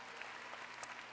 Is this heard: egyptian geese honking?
no